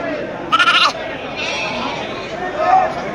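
Bandur sheep lambs bleating at a farm, one loud close bleat followed by fainter calls, with people chattering in the background.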